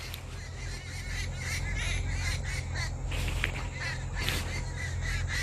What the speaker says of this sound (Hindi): वहाँ पे चिड़ियों का आवाज़ अच्छी लगती है